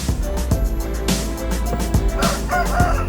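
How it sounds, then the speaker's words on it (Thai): Several chickens clucking and squawking close by inside a farm chicken house, a rooster crowing amid the busy flock chatter. "ไก่เราก็มีเยอะอยู่พอสมควรนะครับ"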